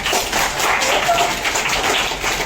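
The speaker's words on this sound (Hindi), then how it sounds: "तालियां कैसे बजती हैं?" A school audience of children claps together in a dense, loud wash of applause that holds steady for a couple of seconds.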